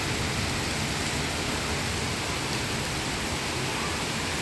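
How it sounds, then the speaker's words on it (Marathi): The first rain of the season falls steadily outside a home gallery in Delhi, a dense, even hiss of rainfall close by with no break and no voices. "पाऊस झाला, फर्स्ट पाऊस आहे आमच्या दिल्लीमध्ये"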